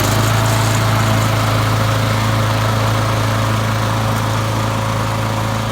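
A Honda lawn mower engine running loud and close in a steady, unbroken drone, with no talk over it.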